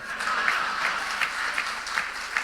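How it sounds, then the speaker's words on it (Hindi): Applause from a large audience at the Republic Summit, a steady, dense wash of clapping that lasts the whole stretch and swells briefly a few times, with no voices over it. "सब इधर ताली लगा रहे हैं"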